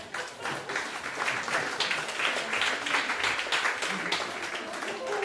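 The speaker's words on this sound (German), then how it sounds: "einen Applaus für Dorli Moore" A crowd applauds with dense, steady clapping that carries on throughout, with voices mixed in beneath it.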